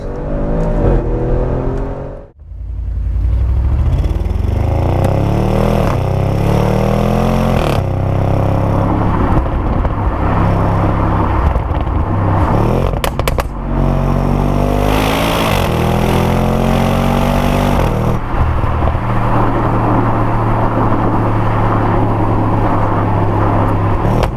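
A loud Audi RS6 engine roars up close, dipping briefly before revving repeatedly with a rough, throaty exhaust note that rises and falls.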